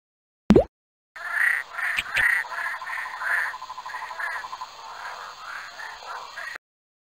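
Leaf frog in a jungle exploration game, a short sharp click followed by a run of repeated raspy croaks in quick pulsing bursts, close and clear over silence, fading slightly toward the end.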